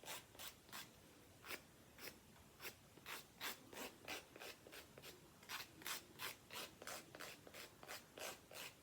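A nail file scrapes across OhOra quartz gel nail strips in quick, even back-and-forth strokes, close up and soft, the rasping rhythm holding steady for several seconds with no voices.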